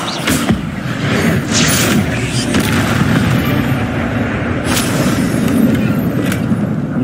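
An Incendio fire spell blast in the Hogwarts Legacy video game, a dense, continuous roar of booming fire and impacts filling the whole stretch at high loudness.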